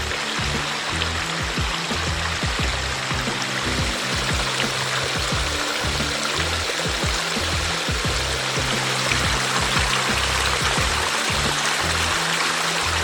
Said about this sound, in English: I really vibe with this waterfall.